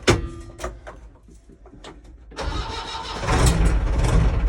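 A car engine cranks on the self-starter and catches after a radiator fix, the steady starter whirr giving way to a loud, rising, broadband engine roar close by, with no talking.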